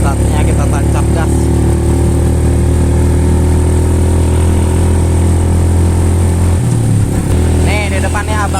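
A motorized becak rumbles along at night between Bandung and Subang, its engine droning loudly and continuously up close with a gear change near the end, while a voice speaks over it.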